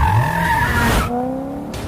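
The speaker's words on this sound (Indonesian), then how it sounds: "Yeonju yang langsung tancap gas untuk menjemput Marco." A car speeds off with tires skidding and squealing, a loud close screech over a revving engine that rises and then falls away.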